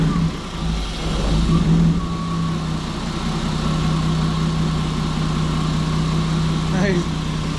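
A BMW E36 engine idles with a steady, even low hum and a faint rattling vibration, close and continuous throughout; the car has an idle problem that makes it keep dying.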